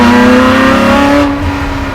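Custom widebody Ford GT40 restomod engine revving hard through its exhaust, a loud, steady high-rpm drone with strong harmonics that holds close and slightly eases near the end, with no talking.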